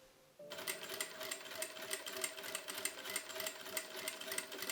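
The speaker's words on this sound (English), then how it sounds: "sew on the shoulder seams 5 millimeters from the edge" Sewing machine running steadily after a brief quiet start, stitching the shoulder seams of a robe 5 millimeters from the edge, a continuous close whirring hum with fast rhythmic needle chatter.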